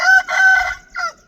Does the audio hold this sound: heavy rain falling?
no